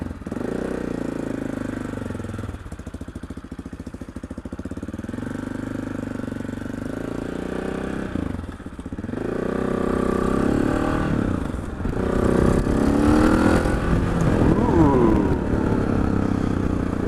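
An AJP PR7 motorcycle with a Thork Racing ECU remap being ridden, its engine droning steadily near the microphone, then climbing and falling in pitch through several revving pulls in the second half.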